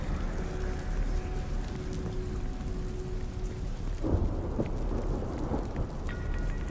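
Steady, dense rain pours throughout a dark scene in the horror video game The Medium, with a deep rumble of thunder rolling in near the middle and fading into the continuing downpour; no one speaks.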